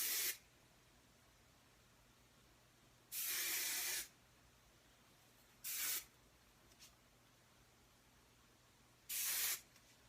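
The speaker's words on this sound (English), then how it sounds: "I'm going to use my spray," Hairspray hisses from a can onto a hair updo in three short, close bursts separated by quiet pauses, with a fainter brief puff between the second and third.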